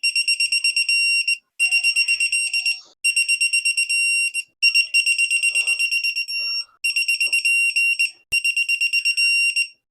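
A torque wrench signals that it has reached its set torque of 17 foot-pounds during a Tillotson 225 engine build, with close, loud trains of rapid high-pitched electronic beeps in repeated bursts separated by short pauses.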